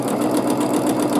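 A sewing machine quilts a baby quilt with a ruler, running in a loud, continuous close-up whir with a steady rapid stitching pulse and no voices.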